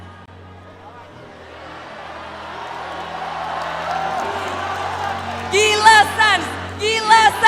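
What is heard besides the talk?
crowd cheering at esports grand finals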